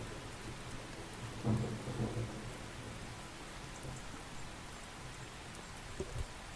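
Steady rain falls with low rumbles of thunder in the video game Seduce Me the Otome, forming a dense, even wash with a louder thunder swell early on, and no voices.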